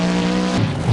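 A monster truck lurches out of control during a timed arena run. Its engine sounds loud and close and holds a steady roar, then turns rough and surging near the end of one brief second.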